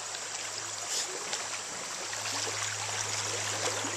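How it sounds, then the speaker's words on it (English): River rapids on the Cacapon, heard while floating, make a steady, close rushing of churning water, with a low hum underneath and no voices. "Next set of rapids."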